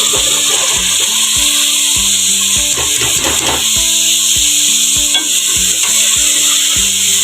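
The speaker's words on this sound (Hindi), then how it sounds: "अब मैं गोभी की 10 मिनट भुनाई करूँगी।" Cauliflower sizzling and frying in hot oil with green chillies for aloo gobhi, a loud steady crackle with repeated scraping stirs of a spatula against the pan.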